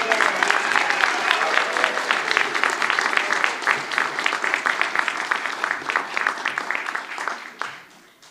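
Audience at a college student awards ceremony applauds graduates with high honors: a dense, loud wash of many hands clapping steadily, a few cheers mixed in, tapering off toward the end.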